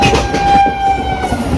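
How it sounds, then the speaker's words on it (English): A passenger train on an Indian line between Kalyan and Igatpuri rolls along the rails with a loud, steady rumble and clatter, and a high tonal whine rings throughout; no one talks. "Now directly the train will be stopping at Igatpuri station."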